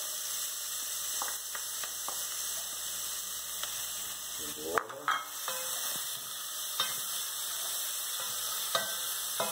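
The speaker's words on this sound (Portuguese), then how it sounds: "Então, fritamos o alho, a cebola, né?" Garlic and onion fry in a pan for a chicken pie filling, giving a steady sizzle with occasional stirring scrapes, close and fairly quiet, and some brief speech nearby.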